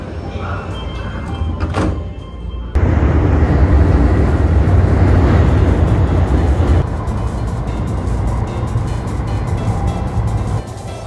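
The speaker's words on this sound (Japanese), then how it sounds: "快速列車は出発。" Keio Line rapid train on the Sagamihara Line pulling away after waiting for a connection, a steady loud rumble of wheels and motors that swells and holds after a thunk of closing doors.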